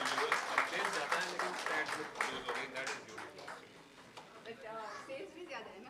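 An audience applauds at a Kamal Motors company show, a faint, steady patter of many hands with voices talking over it throughout.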